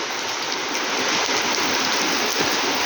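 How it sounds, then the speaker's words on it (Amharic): Steady rain falling in a continuous dense hiss at the start of the rainy season, heard alone without any voices. "ዝናብ እየዘነበ ነው።"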